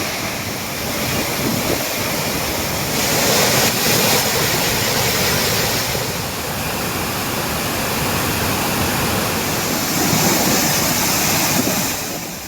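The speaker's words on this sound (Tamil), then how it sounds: "பேச்சிப்பாறை அணையிலிருந்து தொடர்ந்து உபரிநீர் வெளியேற்றப்பட்டு வருவதால் ஆர்ப்பரித்து கொட்டும் திற்பரப்பு அருவி." Thirparappu waterfall roars heavily with surplus water released from Pechiparai dam, a dense, continuous rush of falling water that swells and eases slightly, with no voices.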